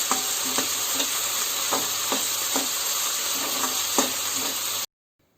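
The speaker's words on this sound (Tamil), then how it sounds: "இதில் நம்ம கட் பண்ணி வச்சுருக்க உருளைக்கிழங்கை சேர்த்துக்கலாம். எல்லாத்தையும் நல்லா வதக்கிடலாம்." Onion and potato for rava kichadi sautéing in a pan, a steady close sizzle with a spatula scraping through in regular repeated strokes, cutting off abruptly near the end, with no talking.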